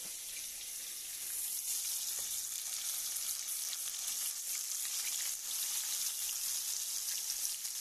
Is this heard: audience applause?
no